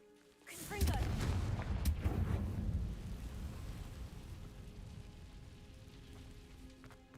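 A Confringo explosion spell cast in a Harry Potter video game, a sudden crackling blast followed by a long rumbling, debris-like roar that slowly fades, with a player's voice over it.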